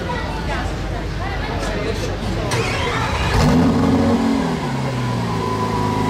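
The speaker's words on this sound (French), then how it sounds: "Il y a SVJ qui démarre." A Lamborghini SVJ supercar fires up and briefly revs, a short engine burst rising out of a noisy crowd at a car gathering, with people talking throughout.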